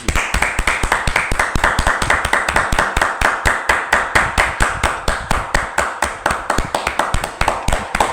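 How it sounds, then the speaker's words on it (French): A church congregation at a revival service claps together in a steady, fast unison rhythm, sharp evenly spaced claps filling the room throughout, with no talking. "Applaudissons pour le Seigneur Jésus"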